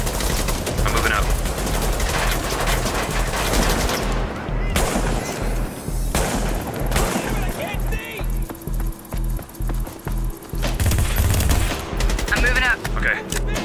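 Dense gunfire from a video game firefight, with automatic bursts and single shots crackling almost without pause, loud and close, broken by brief gaps while players talk over the combat.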